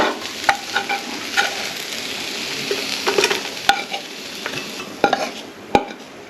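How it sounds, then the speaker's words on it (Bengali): Water spinach sizzles and crackles in a hot pan, with a spatula scraping and clicking against the metal every second or so. "কলমি শাকটা ভাজা হচ্ছে"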